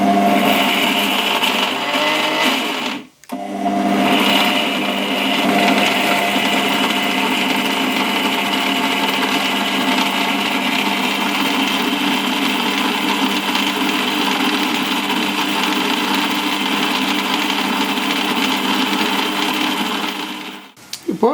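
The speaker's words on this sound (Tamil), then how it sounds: "இப்போது நம்ம மிக்சியில் இதை நல்லா இந்த மாதிரி ஃபைன் பியூரியாக நான் அரைச்சிருக்கேன்." A kitchen mixer grinder runs steadily for about twenty seconds, pureeing onion, tomato, garlic, ginger, coconut and dried and green chillies into a fine paste for a Kerala chickpea curry; a loud, continuous whirring motor with a brief pause near the start.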